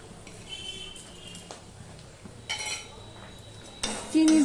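A spoon clinks and scrapes in a pan, stirring sugar through softened tomato and ginger: quiet, intermittent stirring sounds with a louder clatter near the end.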